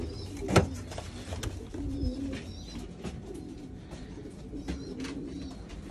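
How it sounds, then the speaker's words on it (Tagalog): Pigeons in a loft coo softly and repeatedly, with low throaty calls coming at intervals over a faint background. "So yan na mga kalapatids."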